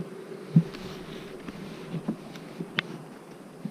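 Honeybees droning around an open Apimaye beehive in late summer, a steady close hum with occasional louder passes of individual bees, no voices.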